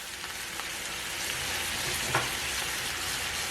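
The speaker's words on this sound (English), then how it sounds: "Pour the liquid inside. And the garlic and ginger. Give it a stir." Garlic and ginger stirred through a sizzling pan with poured-in liquid while making homemade chow mein, a steady close frying hiss with faint scraping, one brief louder clink near the end, no voices.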